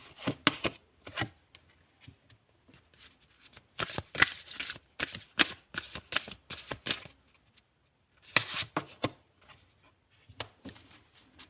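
A tarot reader shuffles a deck and draws three cards. Close, crisp bursts of riffling and card slaps come in uneven clusters separated by short quiet gaps, with no voices.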